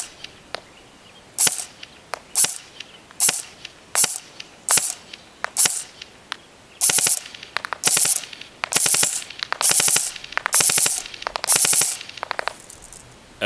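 A Smith & Wesson M&P 15 carbine airsoft electric rifle fires at a target 100 feet away. About seven sharp single shots come at steady intervals, then several longer rapid-fire bursts, loud and close with no voices.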